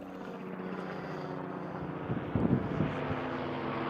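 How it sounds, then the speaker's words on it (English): A helicopter passing over a ghost town campsite, a low droning rotor and engine rumble that holds steady in the distance and swells slightly louder toward the middle. "Helicopter"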